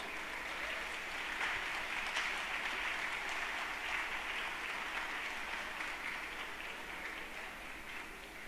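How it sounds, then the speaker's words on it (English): Faint, distant audience applause for the moderators and panelists at a panel event, a continuous even wash of clapping lasting several seconds without any voices. "A huge round of applause, guys."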